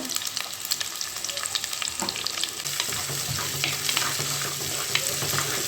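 Two medium chopped onions frying in a pan for chicken gravy: a steady close sizzle, a soft thud as they go in, then continuous crackle with stirring.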